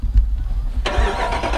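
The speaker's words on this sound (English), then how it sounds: "we're gonna give you a start up here on the 2021 Dodge Durango RT" A 2021 Dodge Durango RT starts up: a brief starter crank and low rumble, then the engine catches with a sharp bark and settles into a deep, close, steady grumbling idle.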